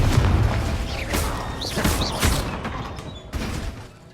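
A Confringo blasting spell from Hogwarts Legacy goes off as a booming fiery burst, with a few crackling whooshes and thuds over a few seconds, loud and close.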